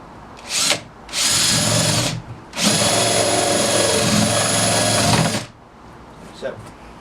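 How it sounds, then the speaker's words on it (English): A power drill bores a center hole for irrigation piping in a vertical garden, whirring loudly in three bursts, a short one, a medium one and a long sustained run, with brief pauses between and close to the listener. "I'm going to use this drill bit to drill for the center hole for the irrigation piping."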